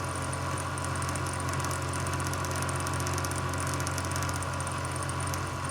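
A milling machine spindle feeds a cutter across an injection mold, giving a steady, loud mechanical drone with a constant hum and a high whine that holds without pause from start to finish.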